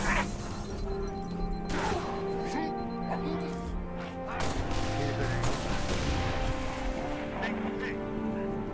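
Pistol fire in a Halo Reach battle comes as a rapid string of sharp shots mixed with crashes and impacts, steady and busy throughout, while a person talks over the action.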